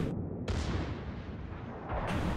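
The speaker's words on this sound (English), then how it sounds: "You're shooting at the island, man." Heavy naval guns from a warship in a naval combat game, blasting toward an island in loud, sustained booming bursts with deep rumbling low end and no pause between blasts.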